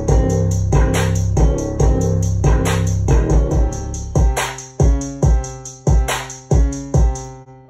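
A splurge-style trap beat plays back from FL Studio, with punchy, evenly spaced drum hits under sustained keys; the hits grow sparser and more isolated toward the end.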